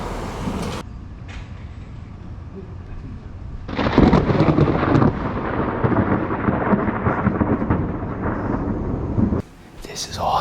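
Heavy thunder rolls through a severe thunderstorm in New Jersey, a deep, loud rumble that swells and holds for several seconds before easing, with a sharper crack near the end.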